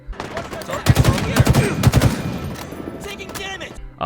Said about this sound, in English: The battle rifle.